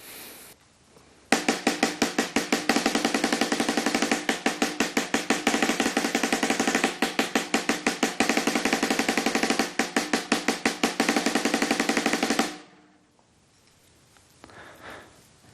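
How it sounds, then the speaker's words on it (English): Snare drum sticking exercise played alone: a run of evenly spaced strokes, four with the right hand and four with the left, then a dense single-stroke roll in 32nd notes, sharp and close, lasting about eleven seconds before stopping. "I'm going to play 4 rights and 4 lefts, and then 2 beats of 32nd notes with single stroke roll."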